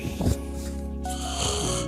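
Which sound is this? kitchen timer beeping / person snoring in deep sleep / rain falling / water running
person snoring in deep sleep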